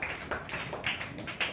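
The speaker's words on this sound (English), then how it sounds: "Keep on clapping." Students in a school prize-giving audience clap steadily in a quick, even patter of hand claps, moderately loud with no voices over it.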